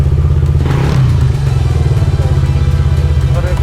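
A motorcycle engine idles and revs close by, a loud throbbing putter with clattery bursts, while people talk nearby.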